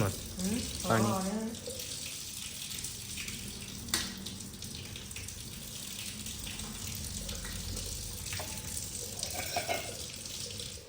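Water streams steadily from a tap, a continuous rushing splash with a few clinks and knocks, while someone talks briefly near the start.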